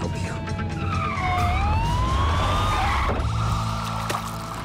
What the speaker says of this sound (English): You see an ambulance? Bright, flashing light, a siren that blasts at 120 decibels?